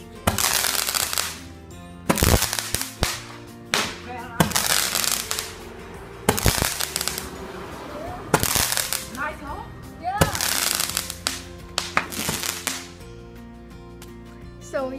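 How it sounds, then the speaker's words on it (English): Long stick firecrackers exploding at a street celebration in Penang, with a series of loud, sharp bangs and crackling bursts every couple of seconds, and voices audible in the background between blasts. "second firecracker that I showed you guys just now, which is the long stick one"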